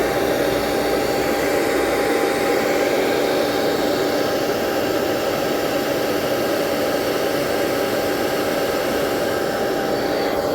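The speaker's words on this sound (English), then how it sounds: "got the hairdryer on, you might not be able to hear me" A hairdryer blows steadily and loudly to soften and melt the glue on a panel of a Mobilvetta motorhome habitation door, a constant broadband whoosh that does not stop and has no voices over it.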